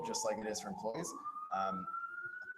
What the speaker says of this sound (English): Apologies for the siren if you're hearing it.